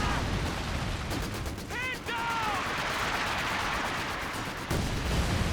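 Artillery shell from incendiary munitions striking near a building in Company of Heroes 2, a dense rumbling wash of battle noise with scattered sharp cracks and a brief whistling streak, continuous and fairly loud under background game audio.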